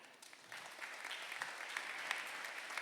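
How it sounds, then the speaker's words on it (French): Congregation at a Sunday morning mass clapping for themselves, a soft, fairly distant patter of many hands that swells slightly and stays even. "Applaudissez-vous."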